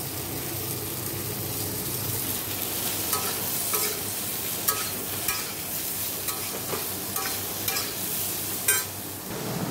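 Pointed gourd (potol) pieces fry in a pan with a continuous sizzle, overlaid by repeated scraping stirs and occasional sharper crackles, close and fairly even in loudness.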